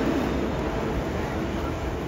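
Low, continuous rumble of a train moving nearby at a crowded railway station in the Alps, a steady heavy drone filling the space with no clear voices.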